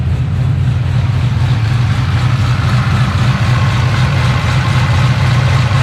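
A cammed Holden VE SS Ute's V8 idles loud and close with a steady, lumpy low rumble that holds unchanged throughout, nothing else heard.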